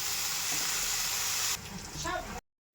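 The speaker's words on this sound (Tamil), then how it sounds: "பாருங்கள், இப்படி கொஞ்சம் ஸ்லோவில் வச்சு நம்ம பெரட்டிக்கலாங்க." Drumstick leaves (murungai keerai) are stirred in a hot pan as a keerai poriyal cooks. A steady loud sizzle and hiss carries throughout, with some scraping stirs near the end before the sound cuts off abruptly.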